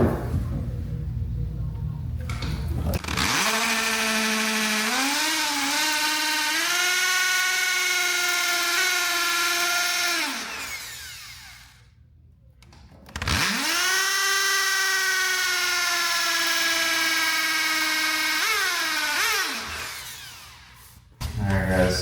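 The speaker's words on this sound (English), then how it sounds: "I'm gonna bore the second hole and then we go from there." A power drill bores a hole at a work site, running in two long whining spells of roughly seven seconds each, loud and close, with the pitch dipping under load and a short quiet gap between them.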